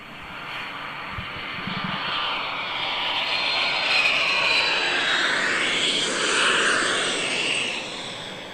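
An airplane flies overhead, its jet engine roar building and sweeping across with a shifting, phasing rush that swells and slowly fades, loud and continuous outdoors.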